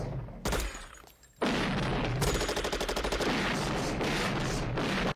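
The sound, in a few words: gunfire exchange in film scene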